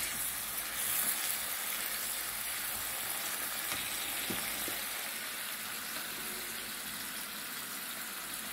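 Onions fry in a pan with a splash of water while fish masala curry is being made, giving a steady, close sizzling hiss that runs evenly throughout with no talking.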